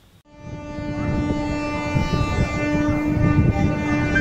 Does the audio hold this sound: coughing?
no